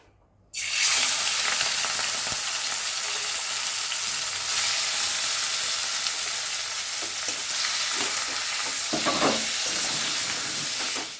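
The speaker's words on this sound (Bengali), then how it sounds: "এখন আমি চিকেনটা এর মধ্যে দিয়ে দেব।" Chicken marinated in ginger and garlic hits a hot pan with a sudden loud sizzle that settles into steady, close frying with occasional stirring.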